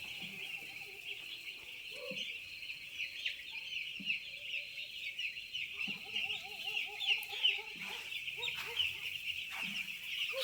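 Young four-day-old chicks on a poultry farm fill the space with a dense, continuous high-pitched chorus of peeping and cheeping, with occasional nearer louder chirps standing out over the steady flock noise.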